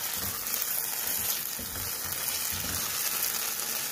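Bubbling, sizzling chicken manchurian gravy simmering in a pan as cornflour slurry goes in, a close, even hiss with faint rhythmic stirring pulses and no talk.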